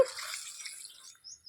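Water pours and splashes into a pot of Andhra-style country chicken curry, a brief close hiss that thins out and fades after about a second, with no talking.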